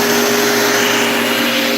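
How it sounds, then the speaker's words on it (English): A homemade drum sander driven by a drill runs at steady speed, giving a loud, close, continuous whine with a constant pitch and no breaks. "So we'll get the sander going first."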